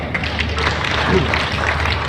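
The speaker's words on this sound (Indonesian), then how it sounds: "Tepuk tangan untuk semua" Audience applause at an inauguration ceremony in Bali, a steady dense wash of clapping from a crowd lasting the whole moment, with voices mixed in underneath.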